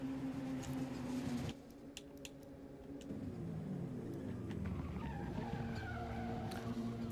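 A race car skidding and spinning out in a Forza racing video game at Catalunya: sustained tire squeal over engine drone, a brief dip, then more scrubbing and squealing, fairly faint with no talk.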